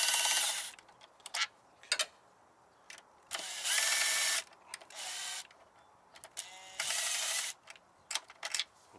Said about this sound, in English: And I just use a 10mm on my Makita.